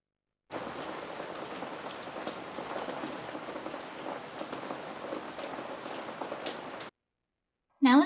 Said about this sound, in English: Let's name it SFX Rain Heavy Loop, or whatever matches the type of rain sound you have. Perfect, now we have rain.